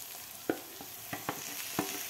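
Onion, garlic and ginger sizzle softly in a pan, with a few sharp scrapes and clicks from stirring scattered over the quiet frying.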